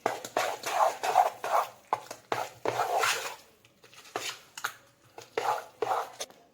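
Handvo batter with ajwain and salt is stirred in a bowl, giving repeated wet scraping and clinking strokes in an uneven rhythm, close and moderately loud.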